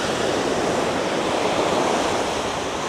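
Ocean waves wash up onto a beach in a steady, loud, unbroken roar of surf with no voices over it.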